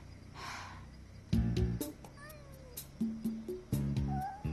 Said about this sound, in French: Ne miaule pas trop fort, hein?